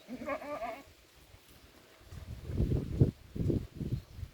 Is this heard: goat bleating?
yes